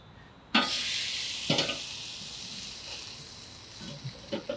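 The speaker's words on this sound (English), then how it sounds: "Let's put a little sear on these burgers now, guys." Burgers searing on a backyard grill: sharp hissing sizzle bursts as patties hit the hot surface, one loud onset then further fainter sizzles and small crackles, close and without talk.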